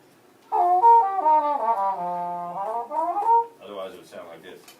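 A muted bowed string instrument plays a short, soft melodic phrase of sustained, slightly gliding notes at a live strings performance, alone and fairly quiet, before a brief higher passage ends it.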